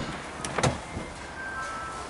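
Front electric windows on a Renault Clio 4 1.5 dCi 90 run quietly, a faint motor whir with a couple of soft clicks and thumps as the glass moves, heard from inside the driver's door area.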